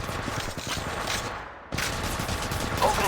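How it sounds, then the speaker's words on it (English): Rapid gunfire in the game Apex Legends, a sniper-and-pistol loadout, with dense bursts of shots that cut out briefly mid-clip and then resume loud and continuous. "Opening fire on the enemy."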